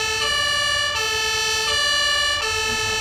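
A fire truck siren in the Farming Simulator 22 video game blares loud and steady, its bright tone cycling with a few short breaks, alone with no talk over it.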